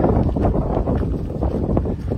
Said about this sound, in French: Ce vent.